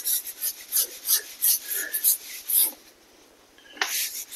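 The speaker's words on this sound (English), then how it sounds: "Let's scrub this up." A brush scrubs grout lines on a natural stone floor wet with Stone-eez cleaner, making a series of fairly quiet rhythmic rasping strokes followed by a short pause and one sharper scrape.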